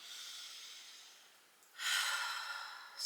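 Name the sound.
slow deep breathing during yoga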